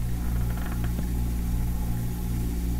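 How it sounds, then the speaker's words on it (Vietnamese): A steady engine idles in the horror video game The Portraits, giving a continuous low droning hum with even harmonic bands that holds at a constant level for about three seconds, with no talking. "À tiếng máy nổ."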